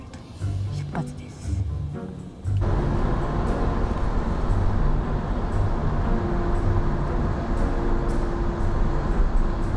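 Train pulling out on the way to Stuttgart, a broad steady rumble and rolling noise that swells in after a quieter opening with voices, then holds loud and even to the end.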